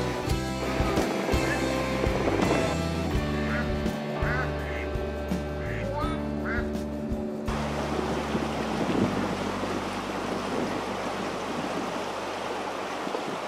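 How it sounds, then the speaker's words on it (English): Water flowing along the Cheonggyecheon, a landscaped urban stream lined with trees and vines, a steady rushing wash with brief duck-like quacks and faint city murmur early on. "the sound of water permeates the air"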